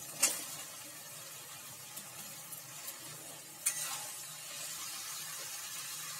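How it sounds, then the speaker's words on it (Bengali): Cauliflower florets, green chilli and fresh peas stirred into spiced oil in a pan for a curry: a soft steady sizzle of frying with a few sharp scrapes and clacks of the spoon, close and quiet. "কাঁচা লঙ্কাটা দিয়ে দিলাম, ফুলকপি গুলো আমি দিয়ে দিলাম।"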